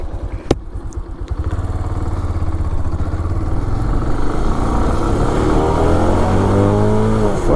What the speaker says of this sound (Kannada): ಗಾಡಿ ಸ್ಪೀಡ್ ಚೆಕ್ ಮಾಡೋಣ.